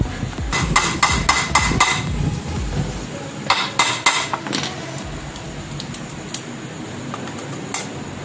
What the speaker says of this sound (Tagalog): Phillips screw na kailangan gamitan ng impact drive.